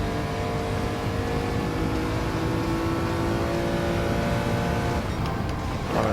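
Race cars in Gran Turismo 7 accelerate down a straight, engines droning loudly and steadily with rising whine, one car passing close near the end, with no talking.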